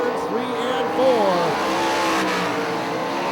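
Sprint cars racing nose to tail on the dirt oval at Hartford Speedway Park, engines roaring steadily down the back straightaway with shifting pitch, under a track announcer's commentary.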